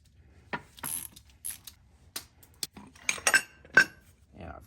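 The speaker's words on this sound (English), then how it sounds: "I'm going to remove this little greaser with a" Ratchet with a 5/16 socket removing a small grease fitting during disassembly of a Ford F150 front 4x4 axle, close sharp metallic clicks in irregular bursts, with brief clinks of tool against metal.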